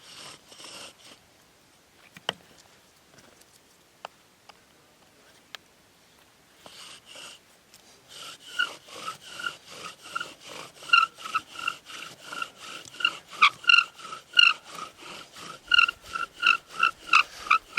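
A bow drill with a Douglas fir spindle grinding on a Douglas fir board, at first quiet with scattered clicks, then building to a steady rhythmic squeaking rasp with each stroke of the bow, close and growing louder.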